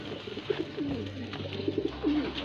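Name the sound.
pigeon cooing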